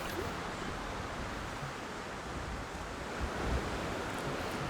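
Deep water in the Jurassic World Evolution 3 game gives a steady, soft wash of waves and surf, a low continuous rush without distinct breaks and with no talking.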